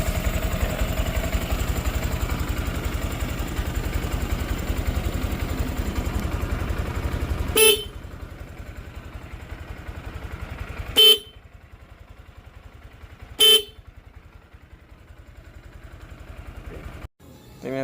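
A steady engine drone cuts out, then three short, sharp honks from a Denso compact Power Tone car horn ring out separately at uneven intervals, close and loud.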